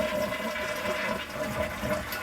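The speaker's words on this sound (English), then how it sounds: "When we flush it, it doesn't shoot the water back up at us." A toilet flushes after its sticking handle is fixed, with a steady close rush of swirling water that continues evenly throughout.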